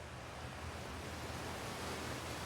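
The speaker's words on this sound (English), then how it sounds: "The waterfalls in this game are so loud." Loud, steady roar of a waterfall in a space-exploration video game, a dense continuous rush of falling water filling the whole clip with no talk over it.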